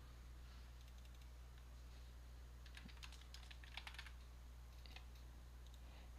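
Keys tapped on a computer keyboard during text editing in After Effects, a quiet irregular patter of clicks over a steady low hum, with a denser burst of keystrokes in the middle.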